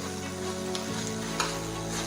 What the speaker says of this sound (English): omena is cooking in moderate fire